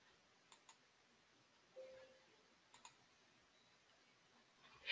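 Computer mouse clicks while running a report on a PC: a few faint, quiet clicks in pairs, spaced apart over a near-silent background, then a slightly louder click at the very end.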